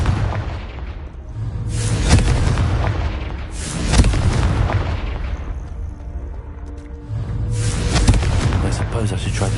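Confringo spell blasts in Hogwarts Legacy, several deep booming explosions with crackling debris bursting out, loud and close, rising in waves over a rumbling background.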